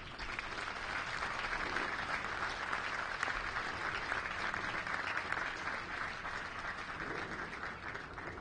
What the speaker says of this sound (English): let's give these amazing soldiers a big round of applause